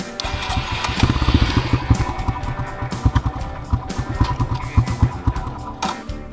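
A dirt bike engine starts and revs up close and loud, its sputtering, uneven firing pulsing through repeated throttle blips with no talk over it.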